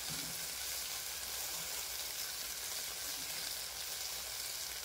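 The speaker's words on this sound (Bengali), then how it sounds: "আমি এইভাবে এটাকে নাড়তে থাকবো" Okra and shrimp with turmeric and chili powder sizzle in a frying pan while being stirred: a dense, even, close frying hiss that holds steady throughout, with no voices.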